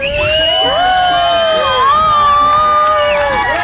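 A crowd of children and adults screams and cheers loudly and close for a giant spray paint artwork, high shrieks and whoops layered in continuous excited babble.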